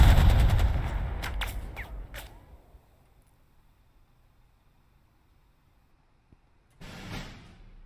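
Gunfire in the wartime tactics game Burden of Command: a burst of sharp shots and crackling blasts fades out, followed by a quiet stretch and then another short, noisy rumble of fire.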